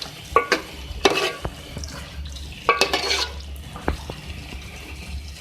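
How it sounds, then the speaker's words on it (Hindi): Chopped coriander stirred into beef and bottle gourd (lauki) keema in a pan: a few distinct scraping spoon strokes over a soft, steady background, close and moderately loud, with no talking. "मैं इसमें ऐड करूँगी चॉप हरा धनिया। इसको मिक्स करेंगे।"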